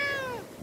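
A blue-eyed purebred Siamese cat at a hotel gives one short, close meow that starts clear and bright and then slides downward in pitch, with no voices around it.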